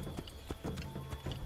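Horse hooves clop at a walk along a path in Assassin's Creed III, an even rhythm of close, soft thuds over steady background ambience, with no talk.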